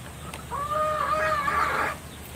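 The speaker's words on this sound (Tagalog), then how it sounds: "Ang ingay nung mga manok." A nearby rooster crows once over a background of farmyard chickens, with a long rising-and-falling crow lasting over a second amid quieter ambient noise.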